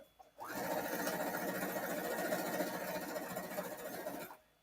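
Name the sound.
sewing machine stitching fabric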